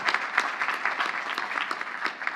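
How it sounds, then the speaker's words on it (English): Audience applause at the 2018 Queens College commencement ceremony, a dense, steady clapping from a large crowd that holds at an even, fairly loud level throughout with no voices on top. "Yes, let's applaud for that."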